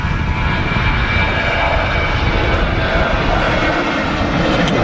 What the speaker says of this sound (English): just on the roll is an easy Ryanair to Girona